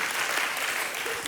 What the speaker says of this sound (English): y'all are clapping